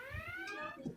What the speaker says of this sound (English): This is just an alarm, a reminder to remind us